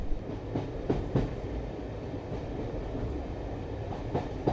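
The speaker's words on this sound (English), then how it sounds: "I took a train inland" Steady low rumble of a train rolling along the tracks, with faint periodic clicks from the rails and no voices.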